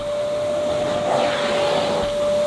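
A Simplicity SV1 vacuum cleaner runs steadily over carpet, giving a loud, continuous motor whine with airy suction rush that swells slightly as it moves, heard alone.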